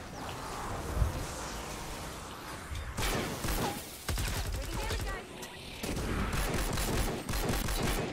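Gunfire in Fortnite: Save the World rattles in rapid bursts, sharp repeated shots coming in clusters with short gaps, fairly close, alongside faint game ambience.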